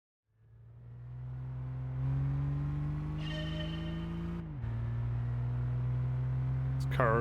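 A car engine in Gran Turismo 5, the racing video game, drones low and heavy, rising steadily in pitch as it revs up. A brief dip follows, then it pulls hard again, loud and continuous throughout.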